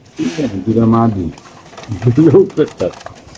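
Caged racer pigeons coo in low, throaty bursts close by, two main rounds of rolling coos, with someone speaking in between.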